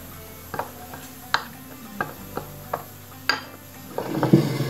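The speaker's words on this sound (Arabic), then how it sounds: "ناخذ الكاكاو والدقيق كنخلطهم" Cocoa and flour being stirred into beaten sugar and eggs in a bowl, with soft scraping strokes broken by a series of sharp utensil clicks against the bowl at irregular intervals, close and clear.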